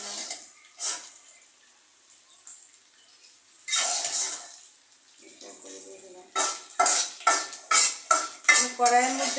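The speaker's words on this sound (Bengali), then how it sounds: "কড়াইয়ের মধ্যে শাকগুলো দিয়ে দিলাম।" Jute leaves go into a wok for a stir fry, followed by a spatula scraping and clanking against the metal in quick repeated strokes, close and fairly loud, with a soft sizzle between them.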